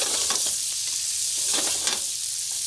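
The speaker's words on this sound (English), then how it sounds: "And now we're just gonna cook these onions down just a little bit." Onions cook down in a pan for braised lamb, giving a steady, close sizzle with occasional stirring scrapes and no voices.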